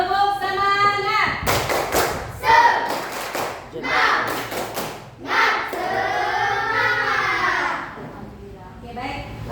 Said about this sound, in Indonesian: kita tepuk semangat dulu biar tambah semangat